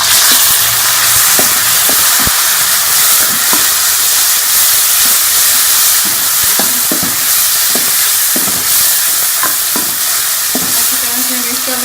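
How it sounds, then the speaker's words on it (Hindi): Tomatoes land in a hot pan of browned onions for chicken karahi, raising a loud, steady sizzle and hiss with scattered spatula scrapes and stirring knocks, close and continuous throughout. "अब इसके अंदर हम ये टमाटर डाल देंगे।"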